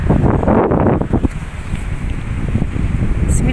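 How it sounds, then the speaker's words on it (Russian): Strong, gusty, cold wind in Mersin buffets the microphone with a steady low roar and rustling, loud and continuous throughout. "Такой сильный ветер, очень сильный ветер и местами холодный"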